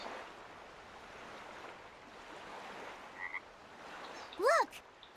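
A frog croaks by the sea in the game Tales of Berseria, a short swooping call rising and falling near the end, heard faintly against soft surf-like ambience.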